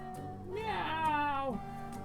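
A single drawn-out cat meow, close and fairly faint, rising and falling over a steady background hum.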